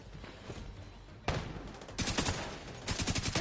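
Gunfire in the video game The Division 2: rapid bursts of automatic shots crackle in several clusters over a steady background of game noise.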